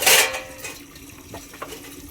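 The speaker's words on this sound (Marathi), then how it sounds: "आई इथे घासते भांडी" Dishes being washed by hand with running water, starting with a short loud gush of water that fades into scattered light clinks and scrapes of pots and utensils.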